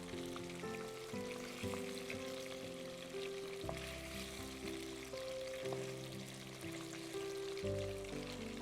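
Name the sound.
chicken frying in oil for butter chicken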